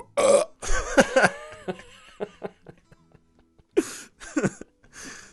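Several loud, close burps in quick succession, with short gaps between them and a cluster of throaty belches near the end, heard alone without talk.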